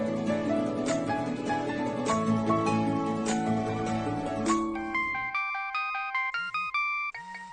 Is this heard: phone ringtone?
yes